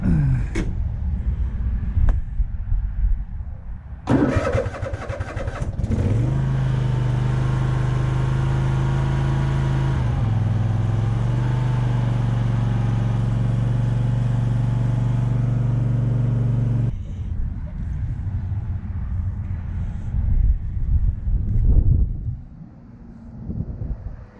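Troy-Bilt XP zero-turn riding lawn mower engine cranks over a few times, then catches and runs at a steady, loud idle close by for about ten seconds before being shut off, followed by faint handling noises.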